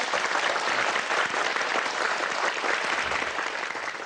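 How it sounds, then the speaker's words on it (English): A studio audience claps steadily for Adam Khoo at the close of a talk show, dense even applause sustained throughout without voices. "Please give him a round of applause."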